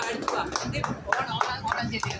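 Several people clap hands at an Onam celebration, a quick irregular run of sharp claps close by, with voices mixed in.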